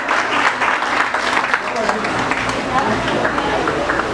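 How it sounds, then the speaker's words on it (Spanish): Audience applause at a Latin American pageant-style event with Miss El Salvador USA, sustained dense clapping from a crowd at moderate distance, with a voice talking over it. "Un aplauso para ella, por favor."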